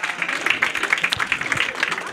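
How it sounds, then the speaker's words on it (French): A crowd at a dance event in Grand Dakar claps for the dancers, a busy, uneven patter of many hands close by, with voices mixed in beneath. "Mais applaudissez-vous pour vous."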